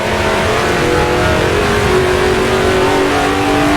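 A race car engine in the Assetto Corsa video game, on the Greenwood Roadway track, revs loudly and continuously up through the gears, its whine climbing in pitch, close and unbroken.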